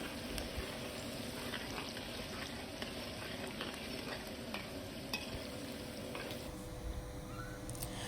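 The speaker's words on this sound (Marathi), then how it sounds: "लसूण जोपर्यंत लालसर होत नाही तोपर्यंत लसूण तेलामध्ये परतून द्यायचं आहे" Garlic frying in oil with whole spices for a spicy chicken curry, a steady dense sizzle with stirring scrapes running throughout at a close, moderate level, no voices.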